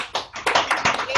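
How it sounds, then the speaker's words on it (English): Zoom meeting participants applauding after a talk on 100% renewable energy, giving a short, close burst of uneven claps and taps. "let's all unmute and give Dr. Jacobson a round of applause"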